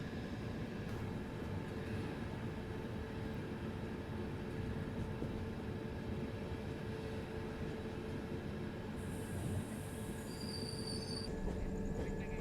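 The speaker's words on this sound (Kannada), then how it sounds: "ಭಾಳ ಮ್ಯಾಸಿವ್ ಐತಿ ಟ್ರೈನ್ ಇದು" A massive passenger train rolls past on the line near Daund junction outside Pune, a continuous rumbling clatter of wagons with high wheel squeal rising toward the end, heard from on board.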